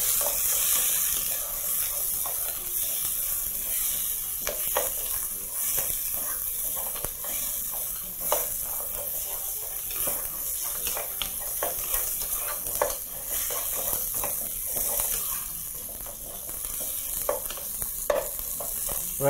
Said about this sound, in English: we're going to allow those to continue browning right up until the bones have got a nice, beautiful color around them